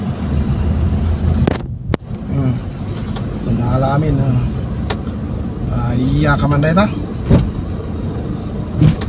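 Road traffic in heavy congestion rumbles steadily, with car and bus engines close by, while people chat in a vehicle over the continuous roadway noise.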